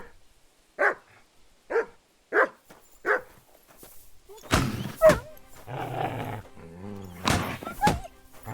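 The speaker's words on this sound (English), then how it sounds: "We got a wild dog here." A wild dog in Kingdom Come: Deliverance II gives four sharp, evenly spaced barks up close, then snarls and growls in a louder, rougher burst with thuds mixed in.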